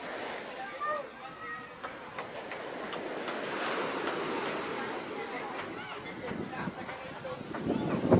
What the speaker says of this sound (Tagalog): talagang malakas naman ang tubig sa amin